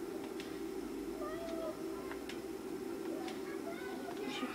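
A kitten in the PS1 game Harry Potter and the Philosopher's Stone gives a few faint, short meows over a steady game music drone.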